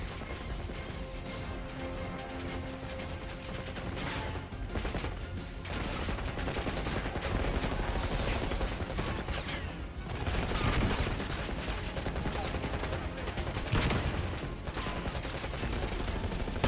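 Gunfire in the Black Ops 6 video game campaign, with dense bursts of shots, crashes and impacts running through a busy mix at low overall level.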